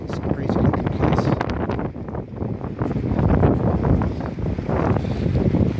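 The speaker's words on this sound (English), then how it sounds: "it's really windy here today" Strong wind roars and buffets the microphone continuously, loud and gusty, with rumbling low noise throughout and no clear voice above it.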